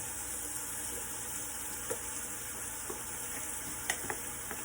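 Lentils go into a pan of golden, cooked-down vegetables and sizzle with a steady, quiet frying hiss, broken by a few soft taps and scrapes of stirring.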